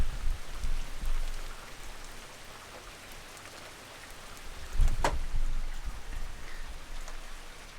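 Rain falls steadily outside, a soft even hiss with scattered drops tapping nearby surfaces and one sharper spatter partway through, heard alone without talk.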